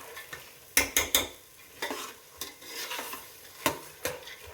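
A spoon stirs and scrapes through greens frying in oil in a home kitchen pan, with intermittent metallic clinks and scrapes over a soft sizzle, close and fairly quiet, and no talking.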